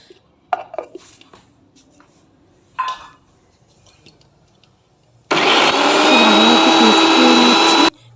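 Blender grinding coriander leaves and tamarind into chutney paste, a loud steady whirring roar lasting about two and a half seconds, preceded by a few light kitchen clinks and knocks.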